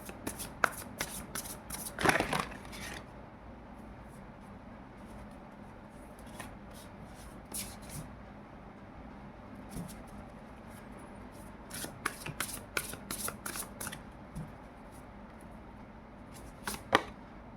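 Oracle cards shuffled by hand for a tarot-style reading, with quick riffling bursts that come in clusters near the start and again toward the end, close and fairly quiet, with soft handling noise between and no talking.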